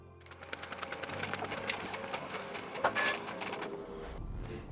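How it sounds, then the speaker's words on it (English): A Canon Pixma MG7150 printer runs a cleaning cycle, close up, with rapid mechanical ticking and whirring, a brief louder clunk midway, then a steady motor hum. "We just press OK until it starts cleaning"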